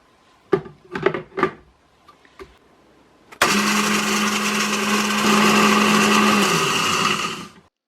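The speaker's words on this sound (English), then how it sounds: "You should be able to hear when you no longer have big pieces left in the blender." A few knocks and taps, then a blender whirs loudly for about four seconds, grinding cinnamon sticks with a rattling buzz before winding down.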